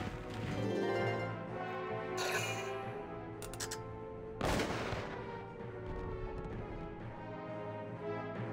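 Several heavy tank cannon blasts from the video game Valkyria Chronicles, loud and booming with long rumbling tails, the sharpest report landing midway, over steady game background noise.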